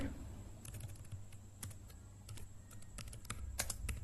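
Someone types code into Sublime Text on a computer keyboard for a JSP and Servlet project, producing irregular bursts of close key clicks over a faint steady hum, with no talking.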